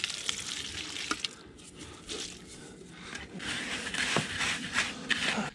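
Strawberry jello and panko breadcrumbs are stirred together for catfish bait, giving a soft, wet scraping and squishing with a few sharper clicks, faint and close.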